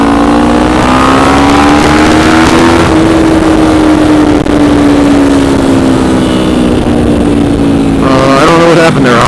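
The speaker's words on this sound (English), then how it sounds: "I swear I was in first gear, that's why the bike was so loud." A motorcycle engine revving loudly in first gear, a close, strained roar whose pitch climbs and then holds high for several seconds before shifting near the end.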